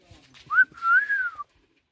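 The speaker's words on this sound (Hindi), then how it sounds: "रुक गया सीटी बजाने से" Someone whistles outdoors in a hill village, a short rising note and then a longer wavering tone lasting about a second, close and clear against a quiet background.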